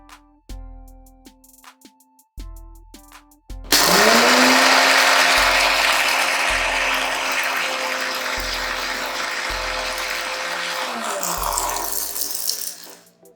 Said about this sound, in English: I prefer doing it in the mixer.